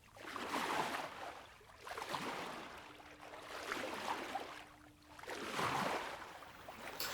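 Vehicles race across water in Sonic & All-Stars Racing Transformed, giving repeated surging whooshes of spray and engine noise that swell and fade in a rhythmic pattern, fairly quiet overall.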